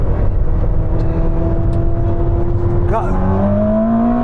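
A Ferrari SF90 and a BMW M superbike accelerate hard from 50 mph in third gear, loud engine notes rising in pitch together, with a single short spoken word near the start.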